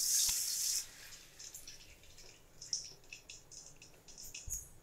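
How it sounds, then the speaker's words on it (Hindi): Water is poured into a hot, greased kadhai while making a chana dal pitha (gojha): a loud, hissing splash for about the first second, then fainter crackling and sizzling bubbles at close range, with no talk. "अब उसमें जो है थोड़ा सा वो गर्म हो जाएगा तो उसमें जो है पानी डाल देंगे।"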